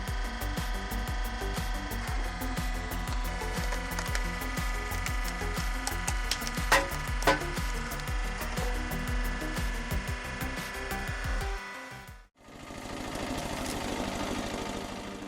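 A homemade automatic firewood processing machine splitting and cutting wood, its engine running in a steady, loud mechanical rumble with repeated rhythmic strokes, then a brief cutoff before a harsher, hissing machine noise resumes.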